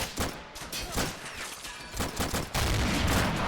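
Gunfire aimed at a building in the video game Army Men: Plastic Wars, with loud bursts of rapid shots and heavy thuds, then a sustained roaring barrage near the end, with no voices.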